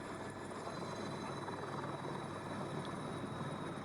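A police helicopter flies overhead, a steady, faint rotor and engine drone with an even broadband wash and no clear rhythm, heard alone without talk.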